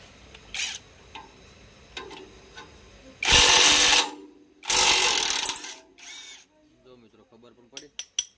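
An impact gun loosens the blade bolts on a tractor rotavator in short, loud buzzing bursts, two main runs of about a second each between quieter clicks and handling noises.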